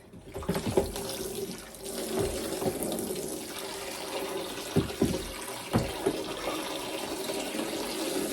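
Hot water runs from a tap into a sink in a home dye room, a steady rushing stream with a few clunks and splashes over it, close by and without talk.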